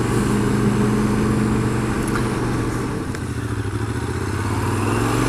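A Triumph Scrambler motorcycle engine drones steadily on a test ride, a loud, close, continuous low rumble with a slight dip in intensity midway, some wind and road noise over it.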